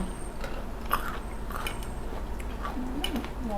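Crunchy chewing of Thai papaya salad made with pink noodles, pickled crab-style seasoning and single-clove garlic, heard as a few close crisp bites and wet mouth sounds with light clinks of utensils, without talk.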